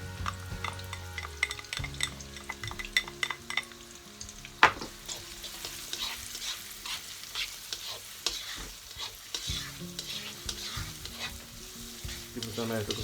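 Chopped garlic and onion frying in butter and olive oil, a steady close sizzle with a spoon scraping and stirring through the pan, no talking.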